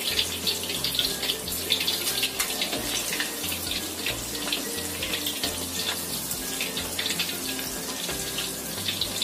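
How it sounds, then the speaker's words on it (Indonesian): Shrimp being turned in a pan of hot oil, frying until dry, with a loud, continuous sizzle and constant fine crackling heard up close, unbroken throughout. "Kita bolak-balik, goreng sampai kering."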